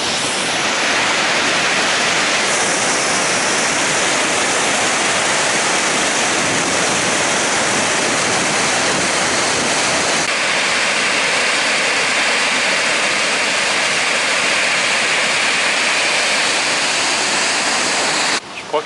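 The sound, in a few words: waterfall in a Norwegian fjord valley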